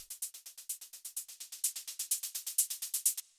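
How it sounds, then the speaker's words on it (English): Grouped techno hi-hat samples play dry and unprocessed, a steady run of crisp, bright ticks at an even fast rhythm, close and alone with no talk. "I have all of those hi-hats in a group, just kind of being processed together"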